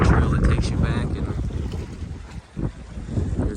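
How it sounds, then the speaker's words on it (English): Gusty wind buffets the microphone outdoors beside a bayou and lake with a steady rumbling roar and occasional louder bursts, no voices heard. "Pretty windy out here today."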